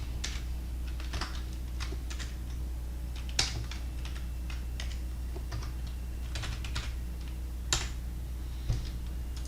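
Steady typing on a computer keyboard while writing web development code, soft irregular key clicks with a few sharper louder taps, over a low constant hum of room or computer noise, no talking.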